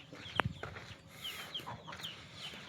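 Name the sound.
chicken clucking, hen with chicks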